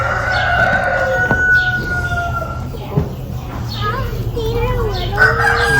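A rooster crows loudly nearby with a drawn-out call, and other chickens cluck and squawk around it over steady outdoor background noise at a stockyard.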